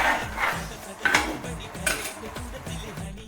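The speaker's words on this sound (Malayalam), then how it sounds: "ഇറച്ചി ഇട്ട് ഇളക്കി കൊടുക്കണം" Chicken pieces with turmeric and salt are stirred in a pot for a coconut-milk chicken curry, a utensil scraping and clinking against the metal in a quick, repeated rhythm with a few sharper knocks, close and moderately loud.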